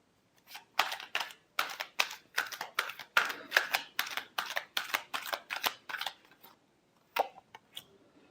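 Tarot cards are shuffled in quick bursts, each riffle a crisp papery flutter, repeated about a dozen times in a steady rhythm before a few sparser flicks, close and fairly quiet with no talking.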